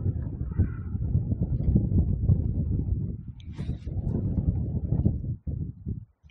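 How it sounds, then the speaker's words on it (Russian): Strong wind buffeting the microphone in loud, rumbling gusts over an open snowy field in the countryside, continuous for several seconds before briefly dropping off near the end. "Ветрено очень."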